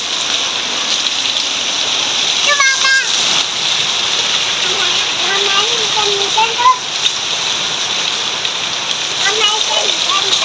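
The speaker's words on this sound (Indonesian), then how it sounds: "Hujan-hujan seger" Heavy rain pours steadily beside a house during flooding, a dense continuous hiss of water with scattered splashes, while a voice talks intermittently over it.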